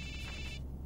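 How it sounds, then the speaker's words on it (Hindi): A phone rings with a bright electronic trill, one short burst that stops abruptly, with a quiet room behind it. "यश, तुम्हारा फोन बज रहा है."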